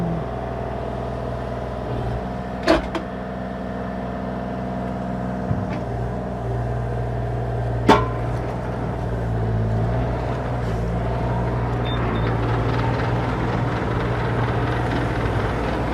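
A 2024 Bobcat E35R2 mini excavator tracks along in 2-speed, its diesel engine humming steadily at close range with a low drone, a couple of sharp metallic clanks from the undercarriage, and the engine note rising slightly toward the end.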